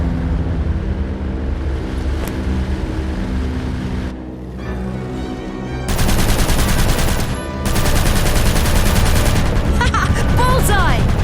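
Gunfire in an aviation combat video game, sustained rapid machine-gun bursts over a constant engine drone, loud and close, with short pauses between volleys.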